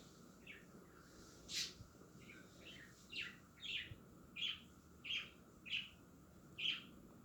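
Pet parrot chirping indoors, a series of about eight faint, evenly spaced sharp chirps over quiet background hum, with no talk.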